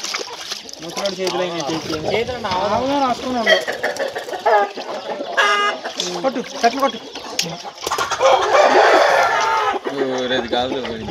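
Fighting roosters being trained for Sankranti cockfights crow and cluck repeatedly at close range, loud and overlapping, with people talking among them.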